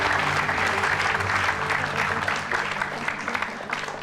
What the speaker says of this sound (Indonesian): Oke, tepuk tangan buat Bianca.